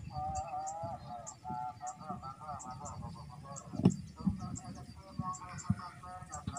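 Wild birds arriving near a bird trap give repeated short, harsh calls and chattering notes at moderate distance, with a few rustles and knocks close by.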